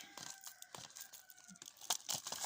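Plastic bag rustling and crinkling as a tray is wrapped in it, heard as a series of short, close, quiet crackles and crumples with no talking.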